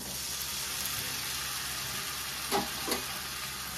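Mashed pointed gourd paste with garam masala and chopped green chili sizzles steadily in a hot pan, a constant close hiss broken by two soft scraping stirs near the end.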